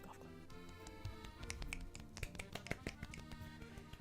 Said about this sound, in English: Golf clap, guys.